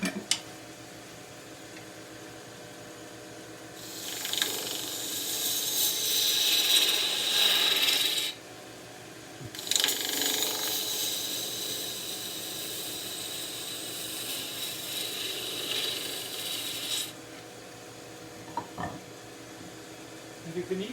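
Spindle gouge taking a shearing cut on spinning wood on a lathe, heard as two sustained hissing, rasping passes of several seconds each with a brief pause between, fairly close, with no talking during the cuts.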